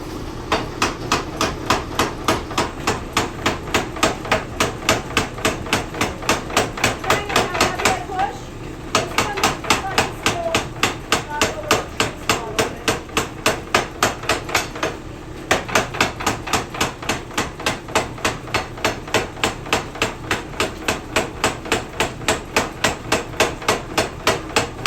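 An old blacksmith shop trip hammer, belt-driven through a clutch, pounds hot tapered steel in a fast, loud, evenly spaced stream of metallic blows that pauses briefly twice, with faint talk underneath.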